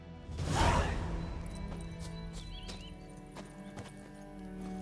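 Roach, Geralt's horse in The Witcher 3, whinnies and breaks into galloping hoofbeats, with a whoosh early on and steady clip-clop continuing under game ambience.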